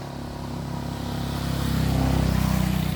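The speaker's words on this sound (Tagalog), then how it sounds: "may motor na naman" A motorcycle on a forest road in rural Guimaras rumbles with a steady engine drone that swells louder as it draws nearer, with no talk over it.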